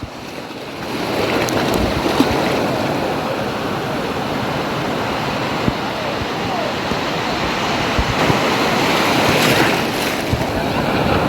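Ocean surf rolls onto the beach at Murudeshwar in a continuous loud wash, with breaking waves rising and falling and gusts of wind buffeting the microphone throughout.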